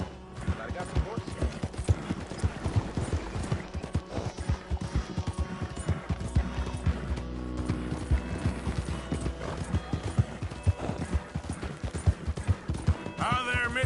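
Horses trotting in the video game Red Dead Redemption 2: a dense, steady clip-clop of hooves with an occasional whinny, layered with game sounds and someone talking.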